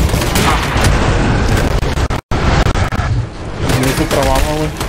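Dense, rapid gunfire from the co-op shooter Army of Two, with loud overlapping bursts and booms filling the mix, a brief cut to silence midway, and people talking over the shooting.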